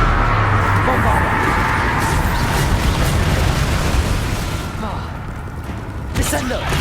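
The Bombarda spell in Hogwarts Legacy erupts in a loud, sustained explosive roar with crackling debris that dips in the middle and flares again at the end, mixed with other spell effects.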